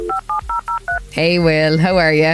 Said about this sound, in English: that's the sound of an old school dial-up modem connecting to the internet over a phone line